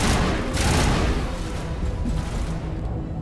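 A loud, dense burst of explosion and gunfire in the video game Mass Effect 1, with a Geth rocket trooper among the enemies, roaring continuously for a few seconds before easing slightly, with no talking.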